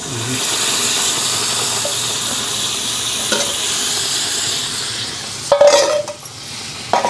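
Cooked chicken is added to a pan over a wood-fired stove, with steady close sizzling and hiss, occasional stirring scrapes and a louder clatter of the spoon near the end.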